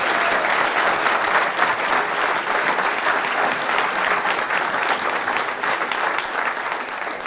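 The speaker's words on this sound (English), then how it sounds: "another round of applause" Another round of audience applause at a talk, a loud, dense, sustained clapping from a large crowd that continues evenly without pause, fading slightly toward the end.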